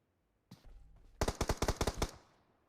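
Automatic gunfire in the mobile battle-royale game PUBG Mobile during a scrim match: a single shot followed by a loud rapid burst of about eight close, punchy rounds, then a fading tail.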